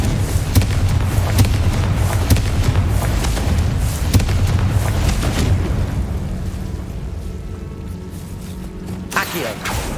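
Repeated spell blasts from Confringo in Hogwarts Legacy, a dense run of booming explosions and crackling bursts over continuous game noise, loud and close, thinning out toward the end with a final burst.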